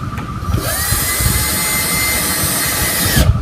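A power drill drives screws into a wooden birdhouse, giving a loud, close, high-pitched whine that spins up and holds steady for a few seconds before stopping.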